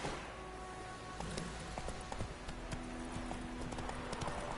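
Horse hooves clip-clop at a steady walking rhythm in The Witcher 3 video game, close and clear over a constant low ambient bed of wind and music.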